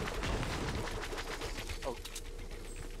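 Rapid gunfire in a Fortnite duo match, a dense burst of repeated shots in the first second that thins into scattered shots and game noise, with players talking over it.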